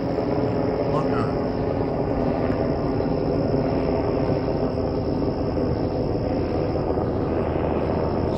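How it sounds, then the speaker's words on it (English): A helicopter flying low overhead, heard as a loud, steady, broadband rotor and engine roar that fills the whole stretch without letup, with faint voices in the background. "some sort of helicopter."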